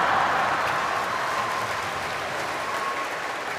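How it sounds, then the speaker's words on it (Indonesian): Audience at a Catholic family gathering applauds together in a dense, steady wash of clapping that carries evenly through, fairly distant and without talk. "Yang tepuk tangan juga harus di atas 1 juta."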